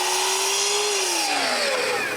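A power saw whines steadily through a square walnut knob, its pitch sagging slightly as it bites deeper, loud and close with no talking.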